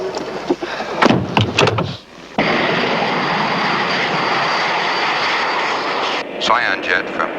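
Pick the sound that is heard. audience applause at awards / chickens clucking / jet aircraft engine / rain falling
jet aircraft engine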